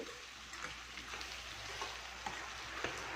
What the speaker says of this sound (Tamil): ஆயில் அவ்வளோ நல்லா அழகாக அதோட அந்த ஆனியன் இதோட சேர்ந்து நல்லா வதங்கி வருது